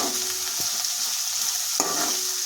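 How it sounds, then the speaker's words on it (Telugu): Large chopped onion and a green chilli sizzle steadily in hot oil, a bright close hiss with a couple of soft stirring knocks and no voices. "అది కాగాక అందులోకి కట్ చేసుకున్న పెద్ద ఉల్లిపాయ వేస్తున్నాను"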